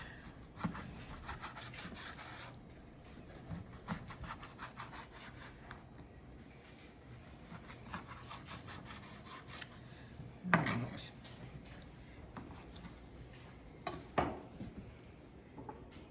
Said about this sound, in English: you want to cut it across the grain